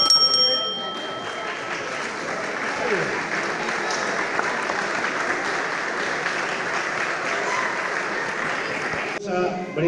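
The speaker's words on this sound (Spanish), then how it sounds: "Vamos a brindar un fuerte aplauso para estos muchachos que nos dieron una muy emocionante pelea." Steady crowd applause fills the hall after an amateur boxing bout, a broad wash of many hands clapping at moderate volume, with the crowd murmuring beneath it until it cuts off at the end.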